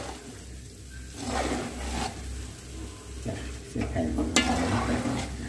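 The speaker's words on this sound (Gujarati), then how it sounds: "શેકાવા આવેલો છે લોટ અત્યારે." Urad flour roasting in a pan for Gujarati adadiya pak is stirred steadily, with a soft, continuous scrape and faint sizzle, punctuated by occasional louder knocks of the spoon against the pan.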